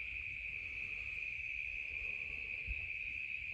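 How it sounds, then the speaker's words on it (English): Cicadas drone at sunset in a steady, unbroken high buzz that holds through the whole stretch, with a soft low rumble of outdoor background beneath it. "I can listen to the cicadas all night,"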